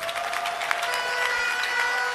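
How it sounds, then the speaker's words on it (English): A congregation clapping during a prophetic church service, a steady wash of many hands beneath a faint sustained tone, moderately quiet and unbroken for a couple of seconds. "Give the Lord a clap of him."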